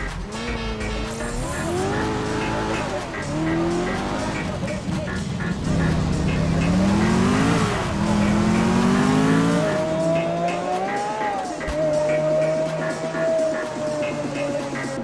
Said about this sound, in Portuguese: Montei um pack de sons utilizando vários mods que adicionam efeitos sonoros muito mais imersivos, especialmente para os carros esportivos e para os muscle cars